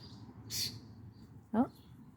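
Small, soft chirping calls from a backyard Easter Egger chicken, two brief notes heard up close, the second a quick rising chirp, over a faint low background.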